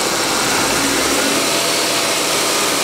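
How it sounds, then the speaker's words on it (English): A Ford Taurus engine revved up with the AC compressor engaged gives a loud, steady, close roar that holds without pause and has no talk over it. "when we rev the engine up"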